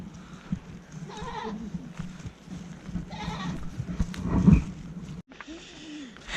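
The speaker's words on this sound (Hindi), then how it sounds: "यहाँ बकरियाँ भेड़ बकरियाँ ज़्यादा होती हैं" Goats and sheep in a Kashmir village bleat several times over a low background murmur, calls close and moderately loud, with a louder bleat near the end.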